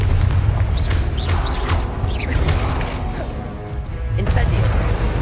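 Magic-spell blasts from the Hogwarts Legacy game, including the Confringo blasting spell, sound as repeated booming explosions with whooshing sweeps, over a continuous battle din and a shouted voice.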